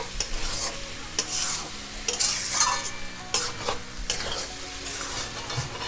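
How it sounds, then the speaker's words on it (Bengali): Tarka dal being stirred with spices in a hot pan for an egg tarka, a steady scraping and stirring with a soft sizzle underneath and occasional utensil clinks against the pan, close and continuous with no talking. "এবার তরকার ডালটাও মশলার সাথে একটু ভালো করে নাড়িয়ে চাড়িয়ে নেব"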